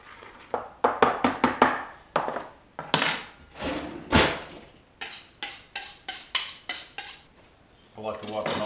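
Fish being mixed with plain flour and salt in a bowl, heard as a run of sharp clinks and knocks against the bowl in quick irregular bursts, close and fairly loud, with brief pauses and no talking.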